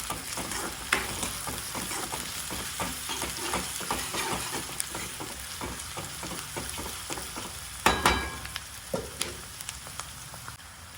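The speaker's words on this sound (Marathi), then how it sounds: "एक मोठ्या आकाराचा कांदा मी बारीक चिरून घेतला आहे तो यात घालून घेऊयात कांदा छान परतवून घेऊयात" Finely chopped onion sautés in oil in a pan for vegetable fried rice, a steady close sizzle with spoon stirring and occasional sharper scrapes and taps.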